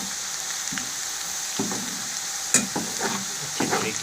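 Onions sizzle steadily in hot oil for a village-style fish curry while a spoon stirs and scrapes the pan with soft intermittent clatters, close and continuous.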